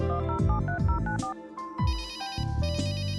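A telephone rings in the point-and-click adventure game Runaway: A Road Adventure, a repeating electronic ringtone pattern heard alone and fairly loud, with no talking.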